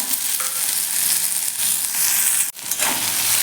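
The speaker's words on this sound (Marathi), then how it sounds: "सोबतच आपल्याला हा कांदा घालून घ्यायचा आहे आणि कढीपत्ता" Onion and curry leaves hit hot oil already crackling with mustard seeds and asafoetida for a tomato chutney, producing a loud, continuous close-up sizzle with a brief dip partway through.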